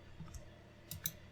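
A computer mouse clicks a few times, soft and close, while someone works in Blender. The clicks come as isolated taps in a quiet room.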